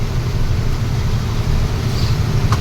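Car driving in steady rain on the Dahod–Godhra highway, a constant low road rumble and hiss of wet tyres filling the whole stretch, loud and unbroken with no voices.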